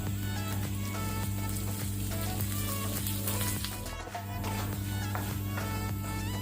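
Curry leaves and coriander seeds fry in oil in a pan with a continuous, close sizzle and crackle, fairly loud and steady, while a low hum sits underneath and no speech is heard.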